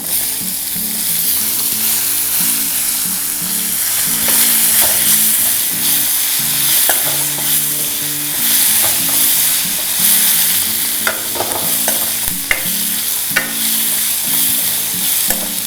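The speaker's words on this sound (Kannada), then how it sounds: "ಒಗ್ಗರಣೆ ಬಣ್ಣ ನೋಡ್ತಾ ಇದ್ದೀರ ಗೊತ್ತಾಗ್ತಿದೆ ಗರಿ ಗರಿ ಬಂದಿದೆ ಈಗ ಇದಕ್ಕೆ ಈರುಳ್ಳಿಯನ್ನು ಸೇರಿಸ್ಕೊಳ್ಳಿ" Chopped onions dropped into crisp tempering oil in a pan, a loud continuous sizzle with steady stirring close by throughout, no talking.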